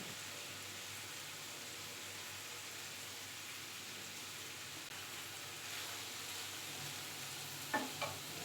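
Drained boiled chowmein noodles going into a pan with vegetables, green chillies and frying chicken, giving a faint, steady hiss of frying and a couple of soft stirring clatters near the end, no voices.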